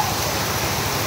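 Rain falls in a village as a steady, even hiss of broadband patter, close and continuous with no voices over it.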